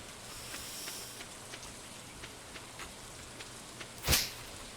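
Soft, steady rainfall patters across a farm in Stardew Valley, a faint even hiss with scattered drops, then a single brief louder splash or crack near the end.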